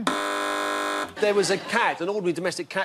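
A long, steady electronic quiz show buzzer on Have I Got News for You blares for about a second, then a voice starts talking right after it cuts off.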